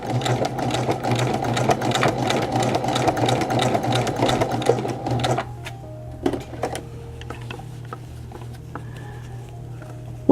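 A sewing machine stitches through the front closure lapels of a women's button-down shirt, a loud close rapid rattling run for about five seconds, then stops, leaving a low hum and a few scattered clicks.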